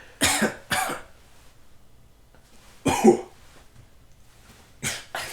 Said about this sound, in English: these chess players are interrupting the coughing championship that's going on in the background